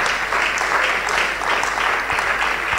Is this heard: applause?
yes